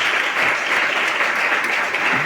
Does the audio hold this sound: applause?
yes